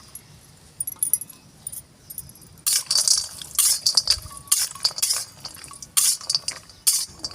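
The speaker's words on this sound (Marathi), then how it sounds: "त्या तेलातच मी हळकुंड टाकून घेणार आहे आणि सुंठ टाकून घेणार आहे" Dried turmeric root and dry ginger pieces drop into hot oil in a pan, giving bright crackling bursts of sizzle that flare up and subside in repeated close, loud waves after a quieter start.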